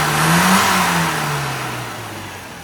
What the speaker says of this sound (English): engine's running nicely now, got a beautiful fueling curve